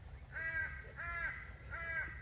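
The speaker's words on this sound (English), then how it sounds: "Crow had a toad in its beak, but he was still flying, chasing the kookaburra even with something in his beak." Three harsh caws from a crow, evenly spaced about three-quarters of a second apart, faint and distant over a low steady outdoor rumble.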